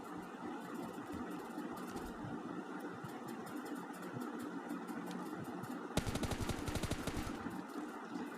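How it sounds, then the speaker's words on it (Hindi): Gunfire in the mobile battle royale game PUBG Mobile Lite, a steady background of game noise with a dense burst of rapid automatic shots near the end, no talking. "यहाँ पे फायरिंग चल रही थी।"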